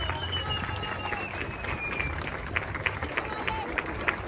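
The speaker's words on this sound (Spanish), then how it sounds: "Otro aplauso para despedirlo." At an outdoor 5K running race, a crowd applauds to send off a runner named Alejandro: scattered, sharp claps grow more noticeable in the second half over a steady bed of crowd murmur and open-air background noise.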